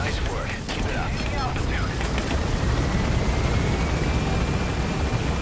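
Helicopter in Metal Gear Solid V: The Phantom Pain, a continuous close rotor whir and mechanical drone with some sharp bursts early on, under voices talking.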